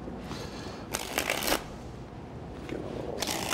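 A magician riffle-shuffles a deck of playing cards up close, two bursts of rapid fluttering card riffles separated by a softer pause, with no talking.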